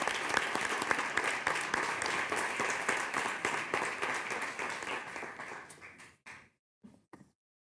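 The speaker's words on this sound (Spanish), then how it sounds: "Un aplauso, por favor." An audience at a conference on non-invasive neuromodulation bursts into dense applause that gradually thins out and fades, ending in a few scattered last claps.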